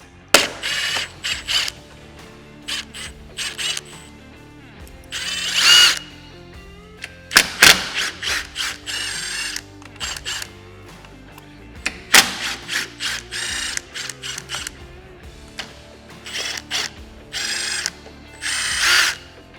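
Hand ratchet backing out T30 Torx bolts on a Can-Am Maverick X3, heard as repeated bursts of close, crisp clicking with short pauses between turns and no talking.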